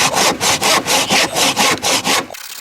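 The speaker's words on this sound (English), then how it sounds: "And we'll cut on that line, but make sure you cut the post as straight as you can." A hand saw cuts through a rotten wooden fence post in about nine loud, even rasping strokes at close range, then stops.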